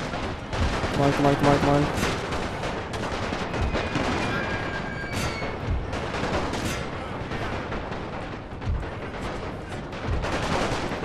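Bursts of rifle and machine-gun fire with artillery thuds from a World War I video game battle in Romania near Bucharest, crackling steadily and densely throughout, with a voice speaking briefly over the din.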